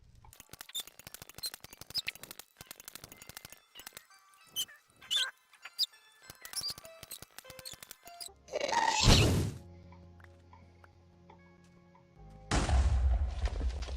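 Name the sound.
Ghast shooting fireballs in Minecraft video game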